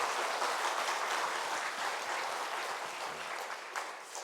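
A church congregation applauds together in encouragement for a women's mission group after a service dedication, a dense, steady wash of many hands clapping at once with no talk over it.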